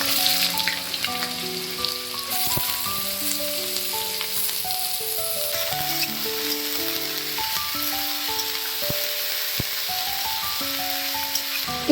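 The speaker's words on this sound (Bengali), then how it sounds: "এবার আলুর টুকরোগুলো ছেড়ে দিয়ে খুব ভালো করে ভেজে নিতে হবে।" Potato pieces frying in mustard oil seasoned with five-spice, a close, dense sizzle with scattered pops and spatters, alongside faint tonal background sounds throughout.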